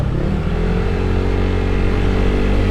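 A motorcycle rides along a rough, bumpy, narrow road, its engine giving a loud, steady mid-pitched drone that stays close throughout, with no talking.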